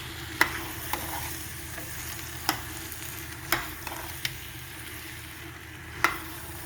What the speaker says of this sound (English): So I'm going to turn together. I'm going to stir together properly.